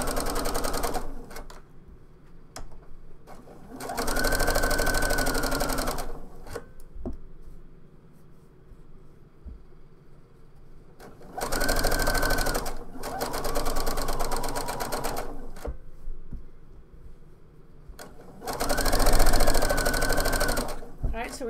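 A sewing machine edge stitches a collar onto the neck edge of a top, running in three separate steady bursts of a few seconds each, with quiet pauses between them and a voice talking in the gaps.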